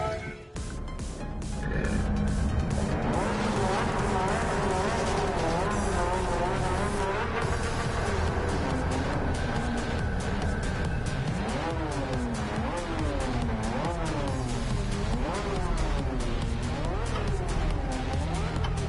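A Porsche race car in Gran Turismo 7 roars continuously at close range, its engine note climbing and falling through repeated gear changes, with some tire squeal over a steady game-sound bed.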